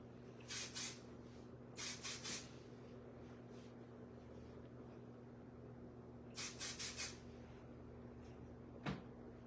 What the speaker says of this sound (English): I am going to use some aerosol for a lasting finish here.